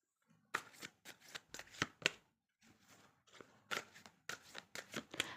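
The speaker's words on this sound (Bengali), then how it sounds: "তো আমি আরও কার্ড দেখে নেব 2026-এর।" Tarot cards are shuffled and handled up close, a rapid series of crisp riffling and flicking bursts in quick clusters with short pauses between.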